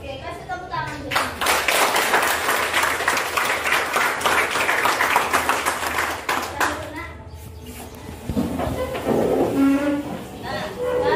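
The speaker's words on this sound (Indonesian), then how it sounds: "Oke, kasih tepuk tangan dulu." A classroom group claps together in a dense burst that lasts several seconds, then fades as voices take over.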